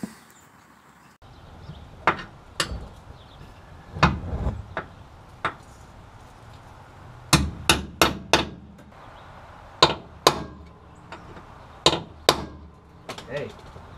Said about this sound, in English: Basically going to use my punch drift and then tap these in with a hammer just to get them nice and secure.